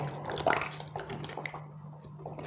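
Shallots are rubbed by hand in a bowl of water to loosen their skins, making close, continuous sloshing and squishing sounds with no one talking.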